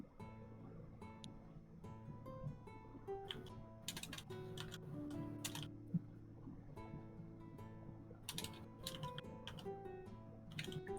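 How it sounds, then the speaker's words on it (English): Typing on a loud mechanical computer keyboard, with irregular bursts of sharp clacking key presses heard faintly over a low background hum. "You have a loud keyboard."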